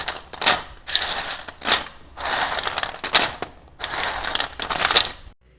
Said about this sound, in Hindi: तो इसकी आवाज़ से ही आपको पता चल गया होगा कि कितनी क्रिस्पी और करारे तैयार हुए हैं